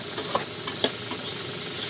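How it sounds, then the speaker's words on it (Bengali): Leafy greens frying in a pan on a wood-fired stove, a steady close sizzle with a few light stirring clicks. "এখানে যে শাক ভাজি করা হচ্ছে আধুনিক লাকড়ির চুলায়।"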